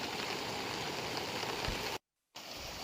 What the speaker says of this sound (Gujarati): તો આ કમોસમી વરસાદ પડી રહ્યો છે, માવઠું થઈ રહ્યું છે